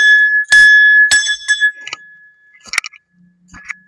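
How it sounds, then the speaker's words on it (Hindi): A temple bell at a Maa Bhairavi shrine is struck about six times at uneven intervals, each bright metallic clang ringing on with a clear sustained tone between hits, close and loud. "घंटी मते बजेबा पड़िबो।"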